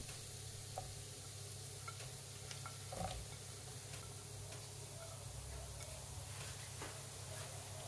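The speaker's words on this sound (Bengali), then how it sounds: "আমি এর মধ্যে আবার সবজিগুলো আস্তে আস্তে দিয়ে দিচ্ছি" Mixed vegetables frying in a pan for a restaurant-style vegetable paneer dish, a steady soft sizzle throughout with occasional faint stirring clicks and scrapes, no talking.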